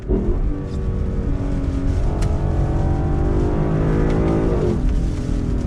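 A 2021 Lexus LC 500 engine revs hard to 7,000 RPM on a wet road, climbing in pitch, a loud, continuous sporty drone with rising whine close by.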